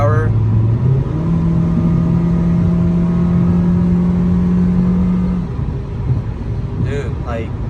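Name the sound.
Honda CR-V with B20B engine driving and accelerating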